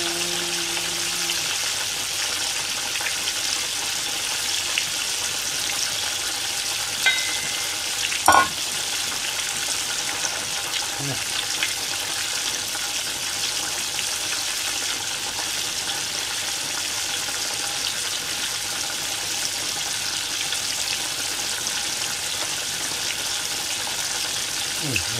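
Japanese karaage chicken deep-frying in hot oil gives a steady, even sizzle over a long stretch. A single brief clunk from a utensil interrupts it once.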